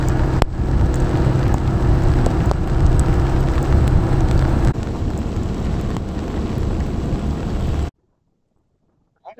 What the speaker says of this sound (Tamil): வீட்டு மில்லு மழை பெய்யற நேரத்துல அப்படியே அந்த மழையும் அந்த மேகமும் வந்து சூழ்நிலை எப்படி இருக்கும்